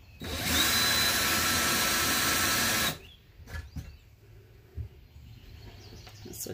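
A power drill fitted with a countersink bit bores into wood for a small wooden cup and marker holder, a loud whirring burst of about two and a half seconds, followed by quieter handling clicks and taps.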